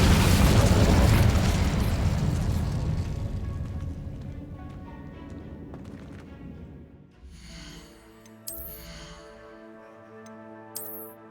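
Incendio fire spell cast in Hogwarts Legacy, a loud whooshing burst that swells and slowly fades, followed by quieter tonal game effects and a couple of bright chimes.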